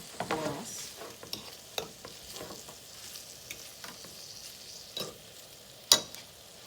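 Pork and beans with rice cooking in a pan, a low steady sizzle broken by irregular spoon scrapes and taps, with one sharper clack near the end, close and without talk.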